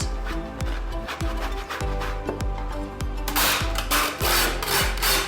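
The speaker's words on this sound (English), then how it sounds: "So I'm using 2 cloves of garlic, well grated." Garlic cloves rubbed over a grater in steady rhythmic strokes, about two per second, each a rasping scrape, close and fairly loud, getting brighter and harsher toward the end, no talking.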